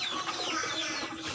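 Indonesian KUB chickens, sick with a flu-like respiratory illness that causes snoring, cluck softly and steadily inside their coop, with no one speaking.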